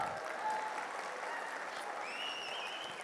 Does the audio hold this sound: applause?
yes